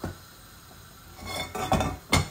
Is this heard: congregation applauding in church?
no